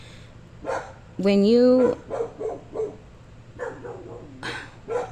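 A dog barks and lets out a drawn-out, rising howl-like bark, followed by several quick barks, while a person speaks briefly underneath.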